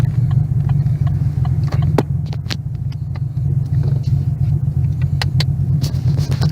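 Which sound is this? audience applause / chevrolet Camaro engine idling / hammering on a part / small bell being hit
chevrolet Camaro engine idling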